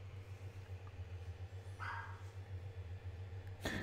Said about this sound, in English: I made it so anticlimactic because of Muddy's barking